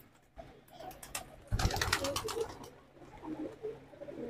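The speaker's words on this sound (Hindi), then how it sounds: "एक से एक कबूतर है उस्ताद के पास, सभी बढ़िया कबूतर ने देखिए बैठे हैं सामने" Pigeons perched in a breeding loft coo softly and faintly, with a few quick flutters and scuffles partway through and a low murmur throughout.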